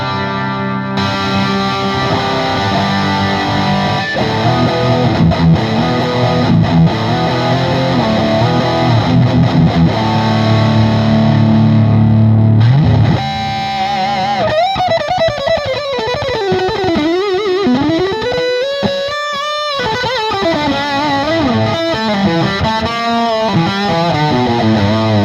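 Loud distorted electric guitar through an MXR Super Badass Distortion pedal, distortion at 12 o'clock and output full, playing sustained chords, then sliding, bending lead notes with heavy crunch and a touch of chorus.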